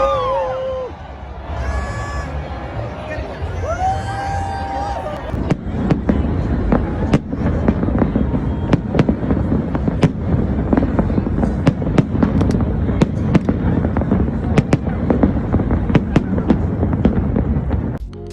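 Fireworks bursting over the hotels of Las Vegas, a dense run of sharp cracks and booms going on without pause, with a crowd murmuring underneath.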